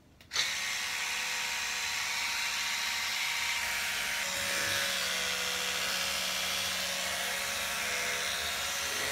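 A steady, high-pitched mechanical buzz of an electric toothbrush running continuously up close, with a slight shift in tone midway through.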